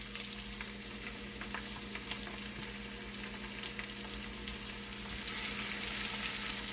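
Chopped onions sizzle and fry steadily in a hot pan for vegetable paratha, a continuous dense crackle with scattered pops that swells a little louder toward the end, with no voices.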